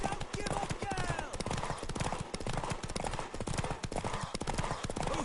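Horse hooves clopping in a PS4 video game, a quick continuous galloping patter under game noise and a person talking throughout.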